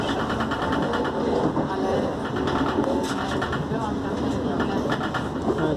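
SWR Class 456 electric train running on the line toward London Waterloo via Richmond, heard from on board as a steady, loud rumble and rolling noise throughout, with faint voices mixed in.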